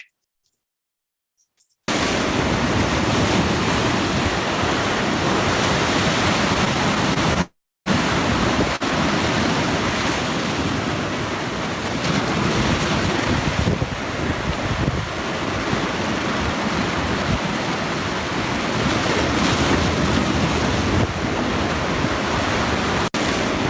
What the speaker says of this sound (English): The seas were too rough.